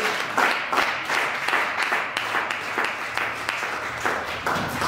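A church congregation applauds together in steady, dense clapping that holds at an even, close, lively level throughout, with no voices rising above it.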